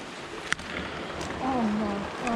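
Steady outdoor rain drenches the surroundings, a constant close hiss with a brief tap near the start and a faint tonal whine drifting through later.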